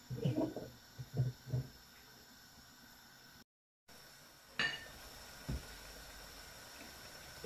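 Metal pot being covered with a lid while cooking beef: a few clinks and knocks of cookware up close, then a quiet hum with another clank later.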